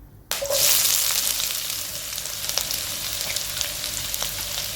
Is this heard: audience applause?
no